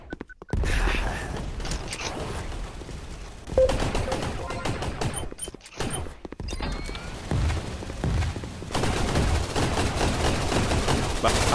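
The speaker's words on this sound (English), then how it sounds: "Shooting that guy." Sustained gunfire in the VR shooter Gun Raiders on Oculus Quest 2, with rapid automatic bursts and clattering mechanical weapon noise running almost continuously, loud and close, with brief gaps between volleys.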